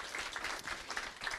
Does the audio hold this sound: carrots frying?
no